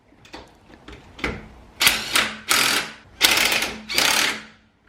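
An impact wrench drives lug nuts onto the wheels of a Nissan 350Z during a wheel and coilover install, firing five or six loud, close hammering bursts that grow longer and stronger toward the end.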